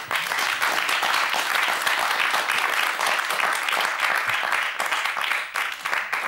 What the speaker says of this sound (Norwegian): Skal du få en applaus?